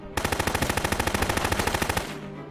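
Rapid machine-gun burst in the video game Silent Storm, about twenty evenly spaced loud shots fired in quick succession for around two seconds, then stopping abruptly.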